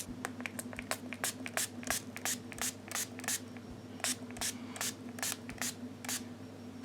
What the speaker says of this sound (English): we're gonna just spray it all over our face